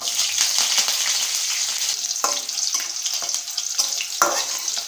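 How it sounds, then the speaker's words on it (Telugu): Green chilies, mustard seeds, cumin and dried red chilies fry in hot oil with a steady, loud crackling sizzle throughout, broken by a few sharper pops and spatters close by. "మిర్చి వేగే వరకు వేయించుకోవాలండి, 1 నిమిషం పాటు"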